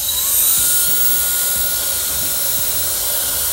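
GAMA IQ hair dryer running steadily, a loud high-pitched whine over a smooth airy hiss that holds constant throughout, heard alone with no speech.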